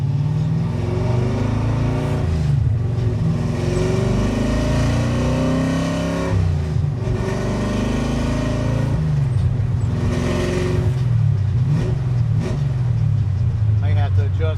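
Carbureted car engine being driven after a power valve change, revving up and easing off in repeated swells with steady mid-range drone, close and loud, with someone talking over the engine throughout.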